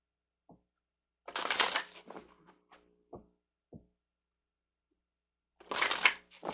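Tarot cards are handled and shuffled close by in two short riffling bursts, separated by soft taps and knocks of cards set down in an otherwise quiet room.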